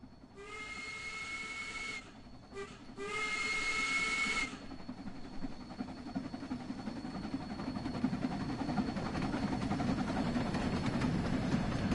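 Steam locomotive whistle in Train Sim World 3 on a UK route: a loud, shrill two-part blast, briefly broken in the middle, followed by rising hiss and rumble of the engine.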